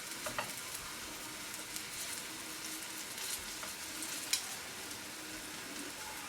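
Leeks frying in a pan in a Korean-inspired dish, a faint, even sizzle and crackle running throughout with a few small sharp pops, no talking.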